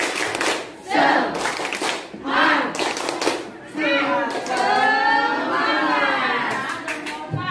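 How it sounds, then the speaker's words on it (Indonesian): A classroom of children performs a rhythmic spirit clap, sharp bursts of clapping in patterned groups that alternate with loud chanted group voices nearby. "Dan tiga, tepuk semangat"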